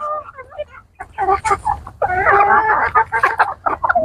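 Burmese chickens cluck and call in a coop close to the microphone, with bursts of overlapping clucks and a longer sustained vocal run in the middle.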